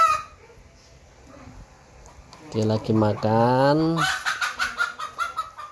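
Chickens clucking and a rooster-like call with harmonic squawks in the middle, followed by rapid repeated clucks, mixed with a person speaking nearby.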